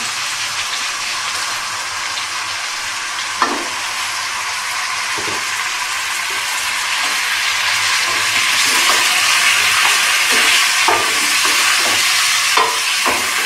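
Chops sizzle steadily in a hot pan, a dense frying hiss with occasional stirring clicks and scrapes, growing slightly louder toward the end, with no talking.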